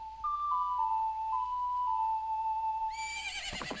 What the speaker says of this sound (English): Hey, teleporting horse.